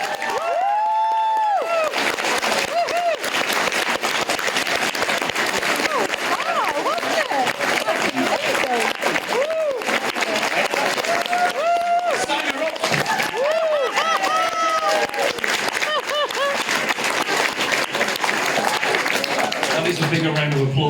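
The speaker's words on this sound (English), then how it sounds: "a bigger round of applause than some guests get" A live crowd applauds and cheers at length, a loud, continuous wash of clapping and voices, with a person speaking over it throughout.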